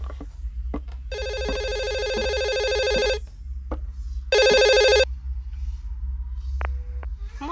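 A telephone rings in a horror video game with two electronic ring bursts, one long and one short, over a low droning hum and faint scattered clicks.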